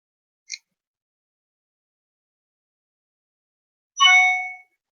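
Phone notification ding from a phone beside a laptop: a tiny faint blip, then after a long silence a single clear bright chime that rings briefly and fades.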